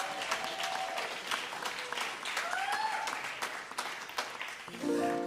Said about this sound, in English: One more round of applause for Yuri,